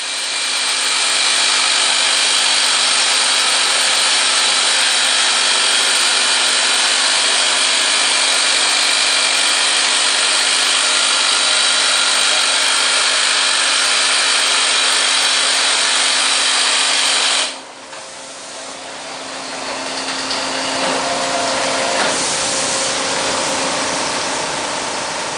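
McLean scissor bolter drilling into rock during underground mine development bolting, a loud continuous high whine that cuts off sharply, then gives way to rougher, shifting mechanical grinding.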